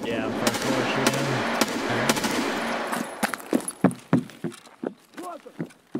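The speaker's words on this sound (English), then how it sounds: "Yeah, I'm first floor shooting." Gunfire in Escape from Tarkov, a rapid automatic burst rattling near and loud at first, then separate sharp shots popping at irregular intervals as the background thins, with players talking over it.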